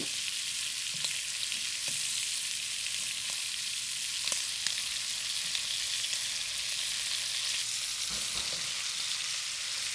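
Shrimp and asparagus stir-fry in a hot pan with a steady, even sizzle and occasional soft clinks of a utensil against the pan, no voices present.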